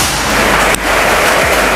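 A single sharp air rifle shot firing Barracuda pellets, a brief crack partway through set against a steady, loud broadband background noise.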